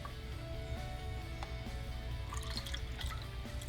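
Milk pouring through a funnel into jars while making homemade yogurt, a steady close trickle and drip of liquid running for a few seconds over a low hum.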